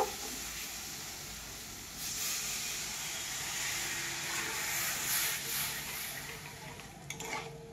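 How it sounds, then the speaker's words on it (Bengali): Water hits a hot pan of frying rohu fish cooked with poppy seed and mustard. A steady, fairly quiet steamy hiss and sizzle carries on throughout, with a few stirring knocks near the end. "এবার আমি জল দেব"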